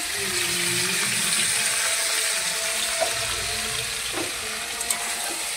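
Vegetables frying in a pan with salt and turmeric for a millet khichuri, a steady, dense sizzle running throughout with a couple of faint clicks from stirring, close and even, no voices.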